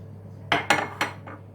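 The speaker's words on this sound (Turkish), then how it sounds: "ben tenceremi ocağa aldım" A cooking pot set down onto a kitchen stove burner, with three or four sharp metallic clanks close by in quick succession, then a softer knock, over a low steady hum.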